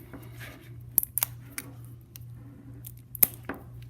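Klein electrician's knife piercing and slicing through cable sheathing, a few sharp isolated cuts and snips spread over quiet low hum, close and fairly faint.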